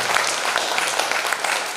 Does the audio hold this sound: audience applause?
yes